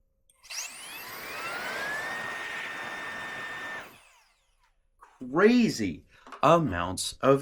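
A Roedix R9 Ultra electric blower duster runs in one steady, loud whooshing burst of about three and a half seconds, spinning up with a rising whine and then cutting off. Talking follows after a short pause.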